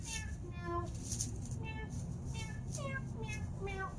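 Several cats meow in quick succession in Torment: Tides of Numenera, with many short rising and falling cries overlapping through a dense ambient bed, moderately near, while voices may be heard faintly beneath.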